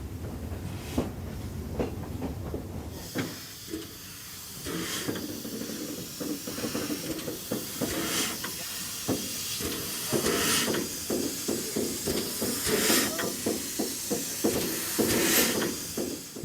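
A French 141E steam locomotive works along a mountain railway line toward Langeac, with continuous hissing steam, rhythmic chuffing and wheel clatter building in loudness over a long stretch, with no talk.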